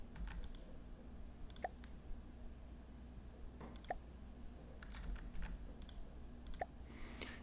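Sparse, quiet computer mouse clicks come in irregular, isolated taps against a low steady hum during a strategy game, with no speech.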